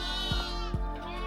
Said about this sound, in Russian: Вокруг блеют овцы.